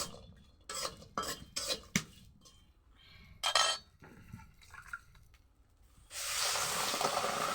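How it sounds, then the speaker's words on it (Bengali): A spatula clinks and scrapes in a hot wok where dried fish (shutki) is frying. Scattered metallic knocks are followed by a sudden, continuous hiss that carries on to the end, close and alone. "শুটকিটা ভালো করে ভাইজা নিতে হবে"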